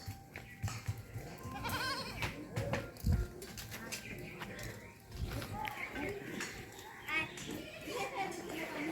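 Goats bleat in a Bangladeshi farming village among other livestock, short bleats scattered over the clip alongside bird calls and children's voices, while a person calls to them and imitates the bleating.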